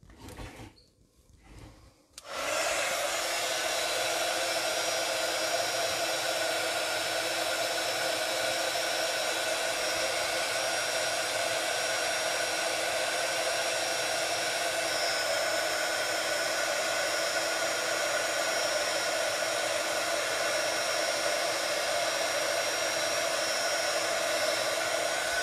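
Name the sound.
heat gun heating a card label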